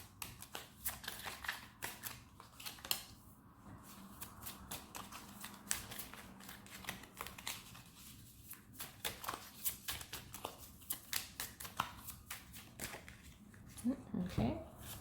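Tarot cards are shuffled and pulled from the deck in a steady run of soft riffling and slapping taps, close by, with a voice speaking quietly over parts of it.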